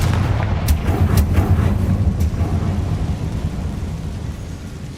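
A Confringo spell explosion in Hogwarts Legacy, a heavy rumbling blast that rolls on as a dense, loud roar with a few sharp cracks early on, slowly fading over several seconds.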